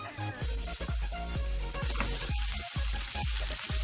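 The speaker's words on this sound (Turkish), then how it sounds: "Şimdi malzemelerimi bir 5 dakika kadar daha soteleyeceğim." Vegetables sizzle in a hot pan while a utensil scrapes and stirs in a steady rhythm, the frying growing louder partway through.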